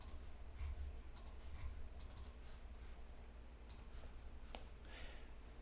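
Mouse clicking on an Embed Image icon in quiz software, several light, sharp clicks scattered at uneven intervals over a faint steady background hum, close and fairly quiet with no talking.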